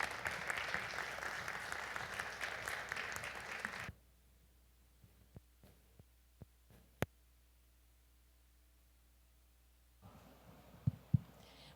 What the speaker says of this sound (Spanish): pido un aplauso muy grande para la delegación de Guatemala en Popayán